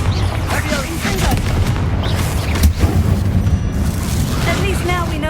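A Confringo blasting spell detonates in the Hogwarts Legacy video game, a deep booming burst under spoken voices, with rumbling low impacts and a sharp thump in the middle.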